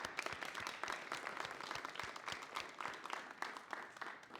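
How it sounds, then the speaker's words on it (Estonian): Audience applauding the debaters at an election debate in Pärnu, a dense, steady patter of many hands clapping at moderate distance. "Ja võime plaksutada debateerijatele."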